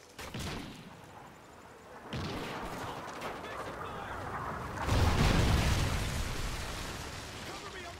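Trinity rocket killstreak blasts in Call of Duty: Ghosts, a series of booming explosions and crackling gunfire, loud and dense, swelling heavily near the end with in-game voices mixed in.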